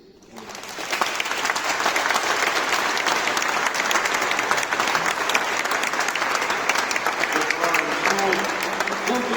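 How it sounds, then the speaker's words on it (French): A large crowd in Luçon Cathedral breaks into steady, sustained applause that continues evenly for several seconds. "C'est pour eux cet applaudissement."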